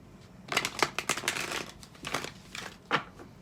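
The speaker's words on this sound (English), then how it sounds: "All right, one more shuffle and we'll get started." Tarot cards are shuffled in several quick riffling bursts, crisp and close, with brief pauses between them.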